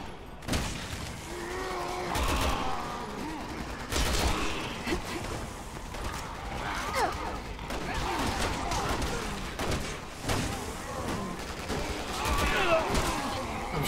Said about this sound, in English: I'm shooting the gas.